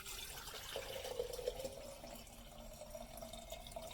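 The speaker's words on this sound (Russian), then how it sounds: "Так, друзья, собственно, подогрел я воду." Heated water poured into a container, a soft steady liquid trickle and splash that runs continuously, quiet and close, with no voices.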